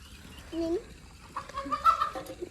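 A chicken clucks in short, squawky bursts, fairly near, with quiet background noise between the calls.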